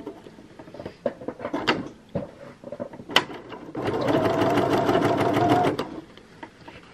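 A sewing machine stitches a sleeve lining: a loud, close, rapid whirring run of about two seconds follows a few seconds of soft handling clicks and rustling of fabric.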